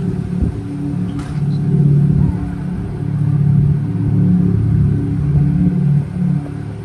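A 2025 Mercedes-Benz G 580 electric G-Wagon gives off its synthetic aura sound, a low, steady humming drone with slow swells, heard close and continuous.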